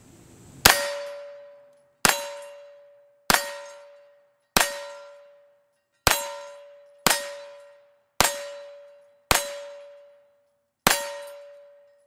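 Nine 9mm pistol shots fired at a Halloween pumpkin outdoors in Murphy, North Carolina, each a sharp, loud crack followed by a ringing, slowly decaying tail, spaced about one to one and a half seconds apart.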